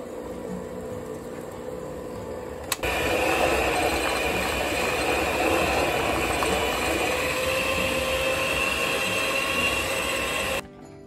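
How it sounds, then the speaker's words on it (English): An electric mixer whips buttercream frosting: after a short quiet start, a loud steady motor whir begins and runs without a break for about eight seconds, then cuts off sharply. "I'm just going to mix this now until it's fluffy and a little bit whiter"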